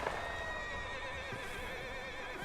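Horses in the game Red Dead Redemption 2 whinny in a sustained, wavering, tonal neigh with faint hoof clatter beneath, steady and moderately close, with no talk.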